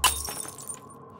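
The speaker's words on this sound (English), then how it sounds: "accompanied by the sound of shattering glass" Glass shattering as a sound effect, a sharp, loud crash at the start followed by tinkling shards settling and a fading ringing tail, with no voices.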